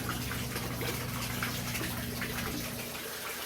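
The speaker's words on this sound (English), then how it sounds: "See the water coming out the bottom there." Water gushes steadily out of the bottom of an aquaponics grow bed planted with kale and lettuce, a continuous close splashing flow with a low hum underneath, no voices.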